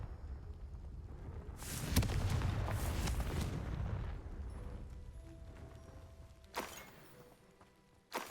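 A Confringo explosive spell from Hogwarts Legacy goes off as one heavy rumbling blast that swells and slowly fades, followed by two short sharp impacts near the end.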